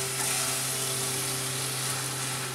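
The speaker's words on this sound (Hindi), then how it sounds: "चीनी को अच्छी तरह से मटेरियल में मिला देंगे।" Steady close sizzling from a pan of bottle gourd cooked down in milk as sugar is stirred in, a continuous hiss with a faint constant hum beneath it and no voices.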